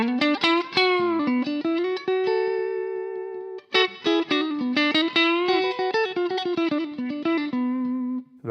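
Brunetti Mille CR electric guitar played clean on the neck single-coil pickup, a busy melodic run of picked notes and short phrases with brief sustained tones, close and alone without talk.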